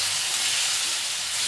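Water hits hot oil in a pan of kantola (spiny gourd) vegetable curry, setting off a loud, steady hiss of steam and sizzling that fills the whole moment with no voice over it.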